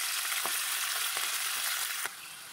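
Fenugreek leaves, mint and coriander frying in hot oil give a steady, close sizzle with a few stirring clinks, and the hiss drops slightly in level near the end.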